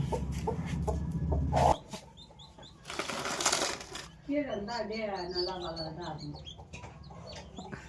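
Hens cluck nearby in short bursts, with a brief flurry of flapping wings, while a person talks over them.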